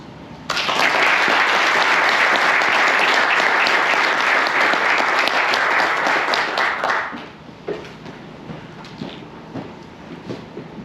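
An audience at the opening of the Hyundai American Safety Center in Superior Township, Michigan claps loudly and steadily for about seven seconds, then the applause fades into scattered claps and faint room noise.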